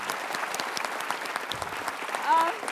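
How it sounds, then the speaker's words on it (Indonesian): A studio audience at an Indonesian television talk show claps in a steady, dense burst of applause throughout, with a brief voice rising near the end. "Kita kasih tepuk tangan untuk Pak Wardiman."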